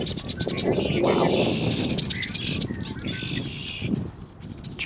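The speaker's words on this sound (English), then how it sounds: "The tree is full of birds." A tree full of many birds of different kinds chirping and tweeting together in a dense outdoor chorus at a nature reserve, with some cooing, fairly close and steady throughout.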